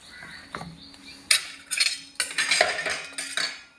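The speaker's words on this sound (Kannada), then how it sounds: "ಈಗ ಪೈನಾಪಲ್ ಸ್ವಲ್ಪ ಕಟ್ ಮಾಡಿ ಕೂಡ ಇದಕ್ಕೆ ಹಾಕ್ತಾಯಿದ್ದೀನಿ" Chopped pineapple goes into a pan for a pineapple kadi, with metal utensils clinking and scraping against the cookware in a handful of quick, close clatters.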